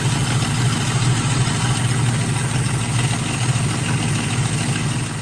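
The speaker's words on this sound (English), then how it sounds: "My GT's been making a little bit of engine noise." A Ford GT engine idles with an abnormal mechanical noise, a steady low rumble with continuous ticking texture running loud and close throughout, with no talking.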